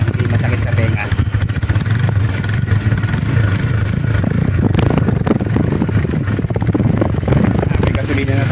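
A 2024 Rusi Flame 150 carbureted motorcycle idles steadily through its stock muffler, making a constant, fairly loud engine drone up close with a slight clatter and a speaking voice heard over it.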